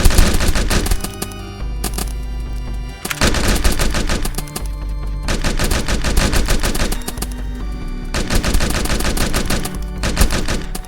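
Sustained, loud automatic gunfire from the video game Rogues Gallery as enemies are shot until their shields drop, dense rapid bursts broken by a few brief pauses, with no voices.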